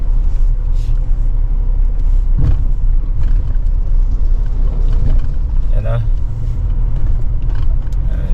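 Heavy, continuous low rumble of a truck and road traffic near a Cavite housing project, loud and close, with occasional voices briefly heard over the engine noise.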